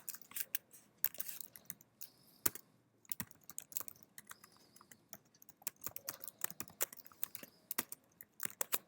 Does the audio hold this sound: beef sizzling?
no